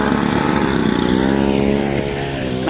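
Snow blower clearing deep snow during a snowstorm: a loud, steady engine drone close by with a rough, buzzing tone throughout.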